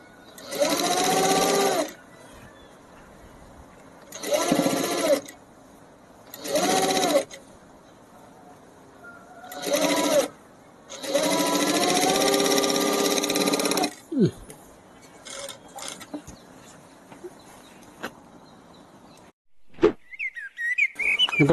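A sewing machine stitches a child's lehenga in repeated bursts of loud, steady whirring, separated by short pauses, with a few small handling sounds toward the end.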